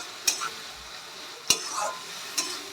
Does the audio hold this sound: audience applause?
no